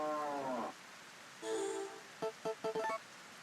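A cow in the Harvest Moon video game lets out a couple of synthesized moos, a long falling one then a shorter one, followed by a quick series of short clipped tones, close and clean with no talking.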